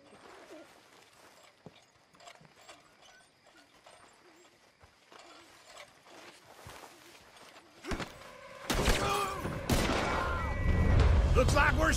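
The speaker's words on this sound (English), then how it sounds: "Looks like we're shooting our way out of here, fellas" A shootout in Red Dead Redemption 2 starts with faint scattered sounds, then breaks into loud, dense volleys of gunfire near the end that grow steadily heavier.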